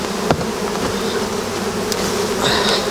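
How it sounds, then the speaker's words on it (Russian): Honeybees buzzing in a dense, steady swarm close by as they are shaken off a capped honey frame at an apiary, a continuous insect drone with a few sharper bursts. "Когда печатка на рамке, пчела очень хорошо стряхивается."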